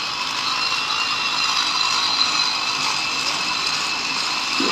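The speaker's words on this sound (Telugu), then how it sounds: "ఆ గ్రైండింగ్ చేస్తుంటే ఎంత మెరుగులు వస్తున్నాయో చూడండి" Grinding on a railway track beneath the tower clock bridge in Anantapur, a steady harsh hissing grind that carries on without a break at moderate loudness.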